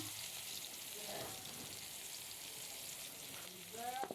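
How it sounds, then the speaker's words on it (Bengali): Onions frying in a karahi (wok) while a desi chicken dish is being cooked, giving a steady close sizzle with light stirring scrapes and a brief voice near the end. "পেঁয়াজটা এখন ভালো করে নেড়ে ছেড়ে আমি লাল লাল করে ভেজে নেব"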